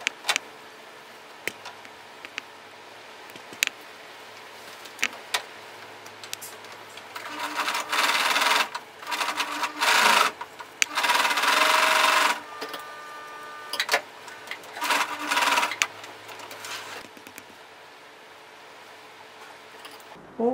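Sewing machine closing dart lines on the front panel of a skirt, stitching in several short bursts of a few seconds each with quiet gaps between them.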